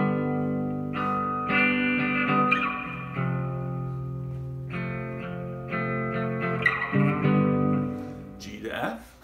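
Guitar strumming partial chords of a song through heavy reverb, sustained chords ringing and changing every second or so, loud and close, ending with a brief scrape.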